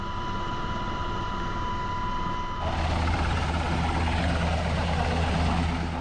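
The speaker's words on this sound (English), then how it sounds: "Helicopters are another essential tool in emergencies," A Coast Guard helicopter flies close by, its loud rotor chop and turbine whine continuous, swelling noticeably louder partway through as it nears.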